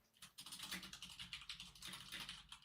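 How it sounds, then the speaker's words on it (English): Fast, steady clatter of keys on a computer keyboard, a quick continuous patter of clicks heard alone without talk. "Who is typing"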